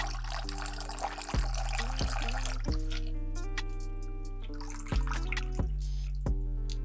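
Liquid is poured into a glass while a Manhattan cocktail is made, giving a short sequence of trickling, glugging pours with rising tones, close and clear, with no one talking.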